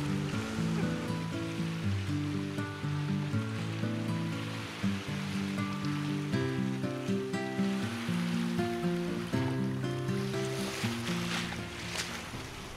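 A motor launch heads out on the sea off Chiloé, Chile, its engine droning in steady harmonic tones that shift pitch in steps. Water wash and wind noise run underneath, with no talking.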